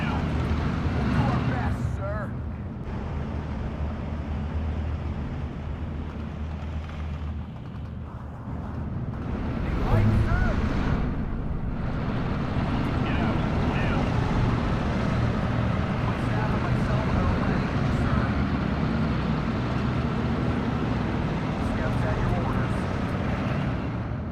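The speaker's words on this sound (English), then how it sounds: "There we go, monotonous engine noises." Steady, monotonous engine drone from World War 2 vehicles in the strategy game Steel Division 2, a low continuous rumble that swells midway, with a voice talking over it.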